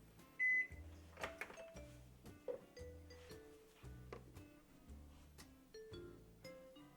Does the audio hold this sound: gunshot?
no